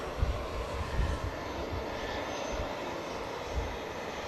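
Finnair jet airliner on its takeoff roll at Manchester Airport, a steady broadband engine roar with low rumbling swells, heard at a distance and without voices.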